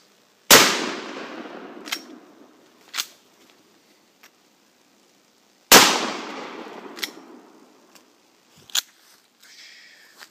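Two sharp, loud gunshots ring out about five seconds apart, each decaying with a long outdoor echo, followed by fainter metallic clicks and clatter of handling the gun between rounds.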